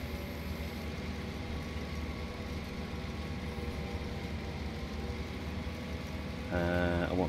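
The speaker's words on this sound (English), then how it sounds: "Park that tractor there." Steady tractor engine idling in Farming Simulator 2019, a constant low drone throughout, with a brief tonal whine rising near the end.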